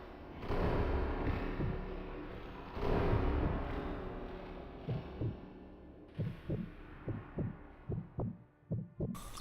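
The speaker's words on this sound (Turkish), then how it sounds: "Kalp atışım hızlandı lanet olsun." Heartbeat in the video game Sniper Elite V2, a low throbbing that comes in as a muffled rumble and then sharpens into a rapid, regular series of distinct thumps toward the end.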